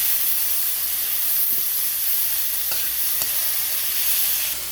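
Onions and tomatoes sizzle in hot oil in a pan, sautéed for sinigang na baboy, giving a loud, steady hiss with a few faint stirring scrapes and no talking.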